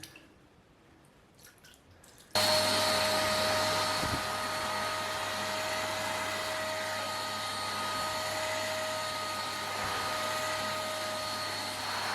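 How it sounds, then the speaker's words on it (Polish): A Parkside PWD 12 A1 1200 W wet/dry vacuum cleaner switches on after a couple of quiet seconds and runs loudly and steadily, its motor whine and airy suction sucking up water with faint gurgles, close and alone. "Odkurzacz bardzo dobrze ściągnął wodę,"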